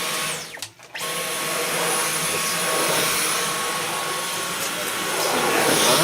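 A Dyson V11 Extra cordless vacuum cleaner starts up after a brief pause and runs with a loud, steady whirring roar over a very low carpet, its pitch swelling slightly toward the end.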